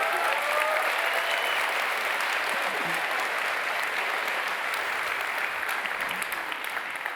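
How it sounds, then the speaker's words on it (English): Sustained applause from a large audience at an Old School RuneScape reveal event, steady and dense clapping throughout with no pauses, filling the room at an even loudness. "give them a round of applause"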